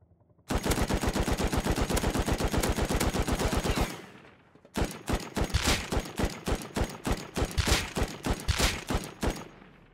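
Gunfire in the video game Rust on a cargo ship: a long rapid burst from an M2 followed after a short gap by a second run of loud, slightly slower heavy shots, close and alone.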